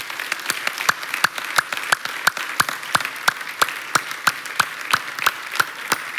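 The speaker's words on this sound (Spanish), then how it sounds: "¿Por qué no le damos un aplauso generoso a Dios?" A church congregation claps in a steady, even rhythm, many hands striking together on each beat, loud and close throughout with no voices over it.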